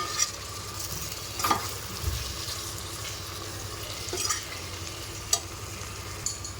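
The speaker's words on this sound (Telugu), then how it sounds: "ఇప్పుడు మనం ఏదైతే ఉడకబెట్టుకున్నామో చికెన్ ఇది అందులో వేసేసుకుందాం ఇదంతా కలిసేటట్టు బాగా తిప్పుకుందాం" Boiled chicken is stirred into curry in a pan, with soft scraping and stirring clinks over a faint sizzle, a few sharper spoon taps standing out, quiet and close.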